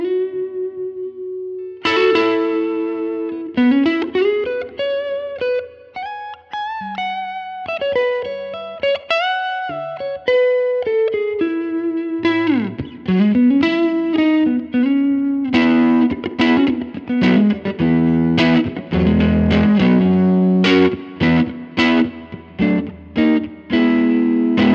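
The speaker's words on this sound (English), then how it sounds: "The neck pickup sounds like this" Electric guitar on the neck pickup played through a Line 6 POD GO preset, a warm clean melodic line of single notes and chords with chorus and reverb, loud and alone.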